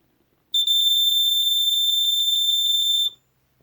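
An early Sears smoke alarm, model 246.57313, gives one shrill, piercing tone that holds steady for about two and a half seconds, then cuts off into quiet.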